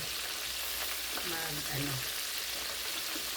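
Fried chicken sizzles steadily in a hot pan of oil, a constant bright crackling hiss, while a voice talks faintly underneath.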